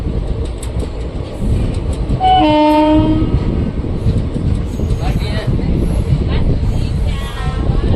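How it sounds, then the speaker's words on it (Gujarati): A train rumbles loudly into an old railway station, its horn blaring for about a second, with steady rolling rail noise and voices faintly mixed into the din. "શીતલનું રેલવે સ્ટેશન આવી ગયું છે"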